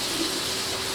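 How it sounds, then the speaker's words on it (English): Cilantro, spinach and green onions rinsed under a running tap, a steady, close gush of water flowing evenly with no pauses. "Give it a quick wash."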